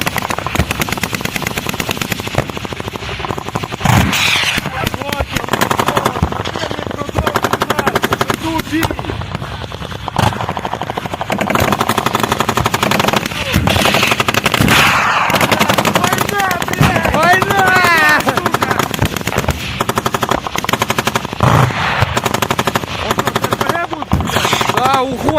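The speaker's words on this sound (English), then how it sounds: "Do you think there's hails of gunfire happening?" Bursts of gunfire during the Russian invasion of Ukraine, with rapid machine-gun rattles and scattered shots continuing loudly through most of the stretch amid shouting and other noise.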